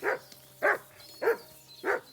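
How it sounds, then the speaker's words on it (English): A dog barking in the medieval game Kingdom Come: Deliverance II, four evenly spaced sharp barks about half a second apart, clear and close, with no talk over them. "my dog is barking at something"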